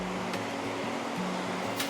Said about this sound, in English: Oh, look at this river. Let's stop and have a closer look at this waterfall.